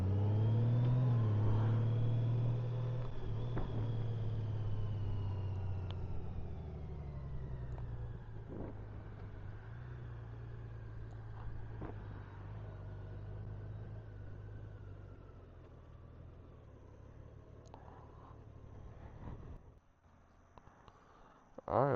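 A Suzuki Hayabusa motorcycle rides along a road, its engine droning steadily and loud up close, revving higher early on, then settling into a lower cruise with wind noise before easing off near the end.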